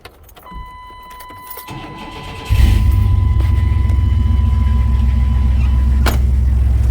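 A work truck engine, with a severe coolant leak repaired and no air cleaner fitted, cranks and catches, then settles into a loud, steady, rumbling idle that continues to the end.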